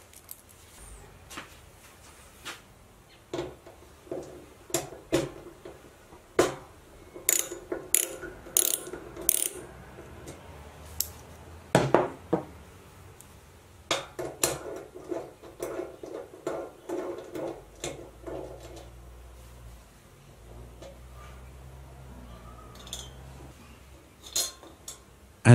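Brass orifices being swapped from natural gas to LPG jets on a gas cooktop, giving sharp ratcheting clicks from a socket wrench in bursts with pauses, plus light metallic clinks of small parts, close and fairly quiet.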